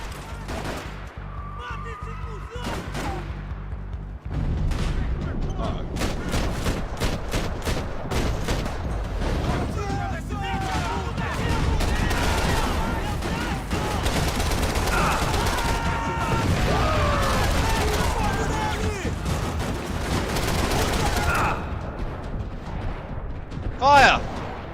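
Rifle gunfire in a video game rings out in dense, sustained bursts and volleys over a loud battle din, with players talking over the shooting throughout.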